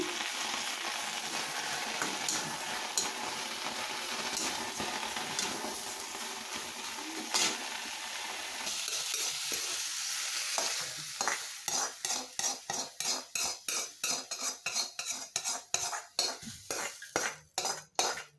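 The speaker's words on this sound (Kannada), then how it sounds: "ಹಸಿ ವಾಸನೆ ಎಲ್ಲ ಹೋಗಿ ಅದು ಚೆನ್ನಾಗಿ ತುಪ್ಪದಲ್ಲಿ ಹುರ್ಕೋಬೇಕು" Spices including pepper, cumin and Indian borage leaves sizzling and frying in hot ghee, then a rapid series of scraping, clinking stirs against the pan toward the end.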